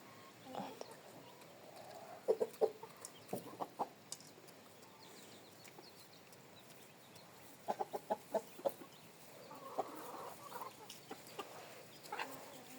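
Hens and a last-year's rooster in a backyard flock cluck in short bursts, scattered across a quiet, moderately distant yard with soft background noise between the clusters of calls.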